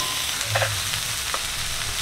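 Dal tipped into a hot pan with ginger-garlic paste and chopped aromatics, sizzling and frying steadily close up, with a brief burst of louder crackle as it lands and a low stirring scrape, no voices.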